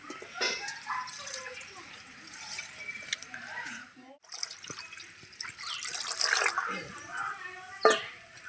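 A little water is poured into a pan before milk is added, making soft trickling and dripping sounds close by, with a pause partway and a short clatter near the end.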